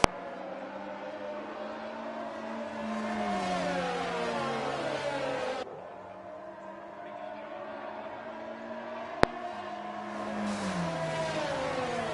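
Race cars including a Ferrari roar through a racing video game, engines rising and falling in pitch through gear shifts, with sustained loud revving and a brief dip midway, under faint commentary.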